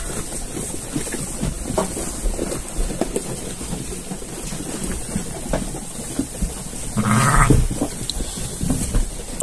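Nursing ewes with newborn lambs on a farm, heard as a short, close bleat near the end over a steady, rain-like wash of background noise.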